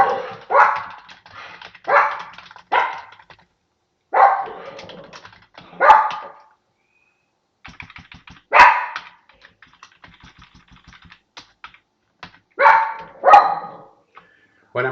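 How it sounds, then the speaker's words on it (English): Dogs bark in loud, repeated bursts of several yelps each, close by, with quiet gaps and faint keyboard typing between the outbursts. "Sorry about the barking."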